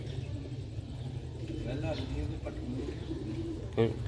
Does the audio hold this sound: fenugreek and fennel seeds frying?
no